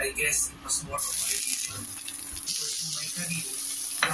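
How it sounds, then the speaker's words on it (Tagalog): Food sautés in a pan for Filipino ginataang tulingan, a steady bright sizzle with some watery hiss and stirring, while a person talks over it throughout. "simulan na nating maggisa"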